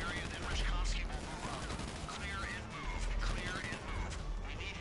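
Gunfire and explosions from GTA V Online, with heavy sustained shooting and booming blasts running throughout at steady loudness, mixed with game sounds.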